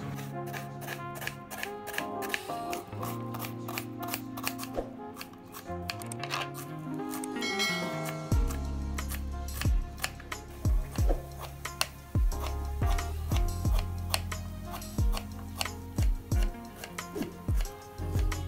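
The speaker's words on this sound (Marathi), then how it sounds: "हे आता आपण कापून घेऊया।" Knife chopping onions, tomato and green chillies on a board for boiled egg bhurji, heard as a rapid series of sharp, close taps in irregular bursts over a steady kitchen background.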